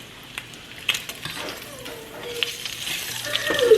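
Bacon frying in a pan while making potato soup, a steady close sizzle with faint scattered clicks of utensils and a brief stir, no talk.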